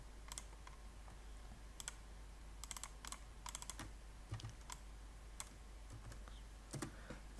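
Key presses on a computer keyboard come in irregular bursts of quick, close clicks with short pauses between them, soft against a low steady hum and with no talking.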